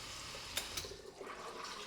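Water gurgles and drains from a TankleBox aquarium water-change basin as it empties, a quiet rushing wash with a couple of brief splashy surges near the end.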